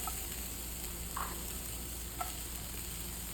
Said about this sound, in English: So we're gonna try to get these nice and hot, sizzling.